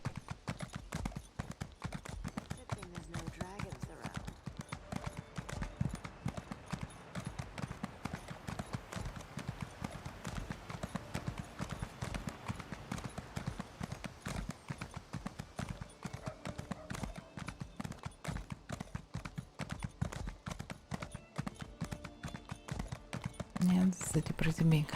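Horse hooves clip-clop in a steady, continuous rhythm while riding through a city in the video game The Elder Scrolls Online, with quieter ambient game sound beneath.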